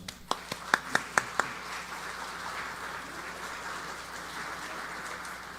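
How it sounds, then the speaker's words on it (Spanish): Scattered audience applause at a judicial education lecture: a handful of distinct sharp claps near the start, then a soft diffuse patter of clapping that fades into room noise. "el doctor Juan Carlos Ortega Castro, a quien recibimos con un fuerte aplauso"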